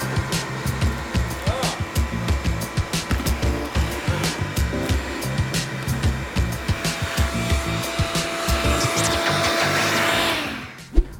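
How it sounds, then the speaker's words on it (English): A shop vac runs steadily with a loud whining roar as it sucks small leaves out of a cheap used car, the motor pulsing slightly before cutting off near the end. "We're gonna take our shop vac and vacuum out all those little leaves."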